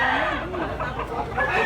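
A bullstag rooster at a rooster market in Tabunok, Cebu, gives loud nearby crowing and clucking calls over busy market background noise.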